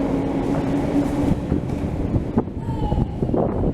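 A London Underground train rumbles and whooshes on, with a rising whine and some clanks as it pulls away from the platform, heard close and loud.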